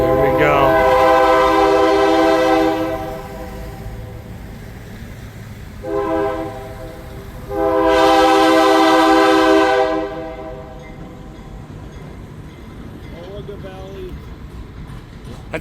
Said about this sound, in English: That's a passenger train, huh?